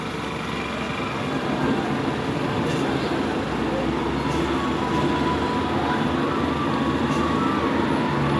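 A second-hand Scooty scooter's engine runs steadily after being started, a continuous close rumble with a broad mechanical hiss that holds level throughout.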